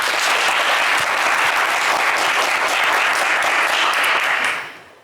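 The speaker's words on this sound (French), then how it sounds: "Evelyn, on vous applaudit très fort" A TV game show studio audience applauds loudly and evenly for a contestant, a dense wash of clapping that holds steady and then fades out at the end.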